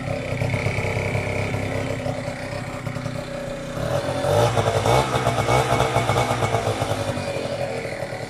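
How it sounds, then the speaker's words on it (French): A motorcycle engine rumbles steadily through its exhaust pipe, then revs up louder around the middle and holds a raised, throaty drone to the end. "vous avez entendu le bruit de tout simplement du pot là"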